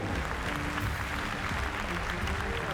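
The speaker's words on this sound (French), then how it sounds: "vous pouvez leur faire un applaudissement parce que c'est 4 jolies génisses" Spectators at a Salers cattle show applaud four heifers in the ring, a brief, full burst of clapping over a low rumble of the hall, with possible voices mixed in.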